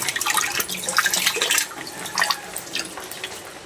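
Water bubbling and popping as it boils in a pot, a continuous close, uneven gurgle with small splashy bursts and no voices.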